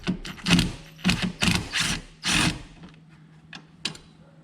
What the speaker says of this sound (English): So let's take out the bolts and see what happens.